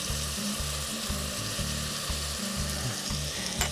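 Ground cumin and ginger sizzle steadily in a hot pan for Indian cooking, a close, continuous frying hiss with pulsing stir scrapes running throughout and no talk.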